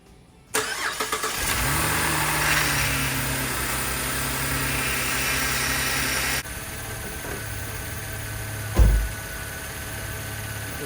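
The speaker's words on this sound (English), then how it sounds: "let's start the car up" A 2012 Chevrolet Camaro cranks and fires up, settling into a steady, loud idle with a drop in level partway through and a brief thump near the end; no talking.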